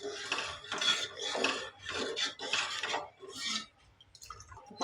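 A pot of rice porridge (kanji) stirred along the bottom with a utensil, giving repeated scraping and rubbing strokes in a steady rhythm, fairly close and moderately loud, pausing toward the end.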